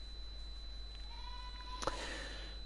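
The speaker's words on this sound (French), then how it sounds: "tu disais qu'il y avait des chèvres qu'on entendait" A neighbour's goat gives a short bleat partway through, at moderate distance over a steady low hum and background noise.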